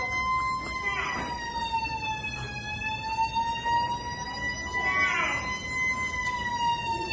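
A fire truck siren wails steadily throughout, its pitch sliding up and down in slow sweeps, with faint background noise beneath and no voices, during a fire drill.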